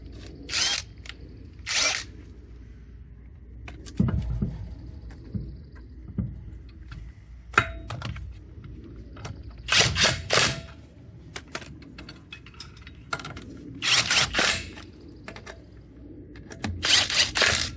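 Power tool snugging bolts on the rear of a 1969 Dodge Charger project car in a yard garage, several short close rattling bursts separated by quieter gaps with low thumps and shuffling, no speech.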